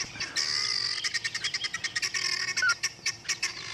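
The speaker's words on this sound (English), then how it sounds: "Look how cross those guinea fowl are." Agitated guinea fowl call in rapid, repeated harsh chirps and cackles in the bush at Djuma, moderately distant, forming a steady rhythmic clatter with no talk.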